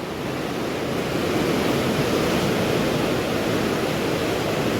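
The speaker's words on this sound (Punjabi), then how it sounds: "ਪਾਣੀ ਦਾ ਬਹੁਤ ਤੇਜ਼ ਬਹਾਅ ਚੱਲ ਰਿਹਾ ਤੇ ਰੋਲਾ ਬਹੁਤ ਜ਼ਿਆਦਾ ਪਾਣੀ ਦਾ ਚੱਲ ਰਿਹਾ" A loud, continuous roar of fast-rushing floodwater through a flooded village fills the clip without letting up.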